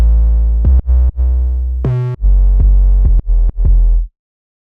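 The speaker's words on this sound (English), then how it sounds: "So that is the sub bass" A heavy layered sub bass, an 808 blended with a bit-crushed copy for extra harmonics, pulses loudly in short rhythmic hits and sustained notes, then stops abruptly.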